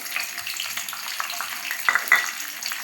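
Peeled garlic cloves and mustard seeds frying in hot oil for garlic pickle, a close steady sizzle with small crackles and pops, a couple of sharper spits near the end, no talking.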